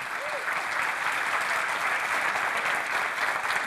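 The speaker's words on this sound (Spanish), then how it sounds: "Un aplauso fuerte al Señor" Congregation applauding during a church sermon, an even, continuous roar of many hands clapping at moderate distance, unbroken for the whole stretch.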